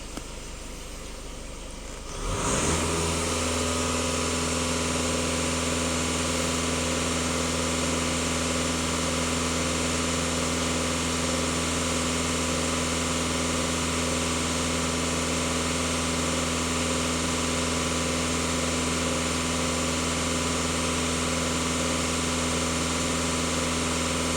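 A VW Passat B8 with the EA288 diesel engine, 4x4, running at raised revs during a DPF and EGR cleaning; after a brief quiet start the engine settles into a loud, steady, continuous drone with a constant hum.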